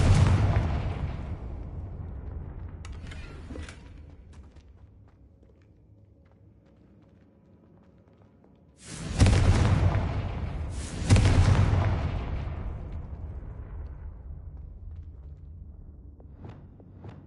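Confringo blasting spells detonate in Hogwarts Legacy, a fading boom at the start followed by two loud explosions close together later, with faint footsteps and quieter game ambience between them.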